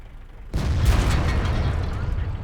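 A tank gun fires with a sudden heavy boom in World of Tanks during an engagement with an M4A3E2 Sherman Jumbo, then a long rumbling roar that stays loud across the rest of the moment.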